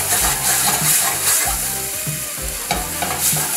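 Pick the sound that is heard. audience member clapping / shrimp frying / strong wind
shrimp frying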